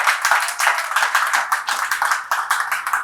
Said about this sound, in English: So a round of applause to Manu Gowda as well to make this happen.